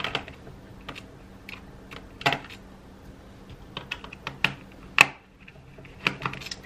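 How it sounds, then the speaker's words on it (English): Small screws being backed out of the hard drive caddy in a Dell Latitude 3550 laptop, heard as sparse, light clicks and ticks of a screwdriver scattered across a quiet background, with no talking. "So we'll unscrew the caddy."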